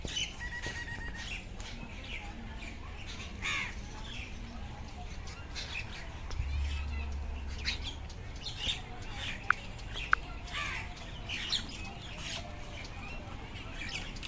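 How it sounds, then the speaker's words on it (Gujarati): Birds chirp and tweet in scattered bursts around an outdoor spot, with occasional clicks and a low background hum. "પક્ષીઓ બધા આજુબાજુ જ ફરે બધા અહીંયા આગળ"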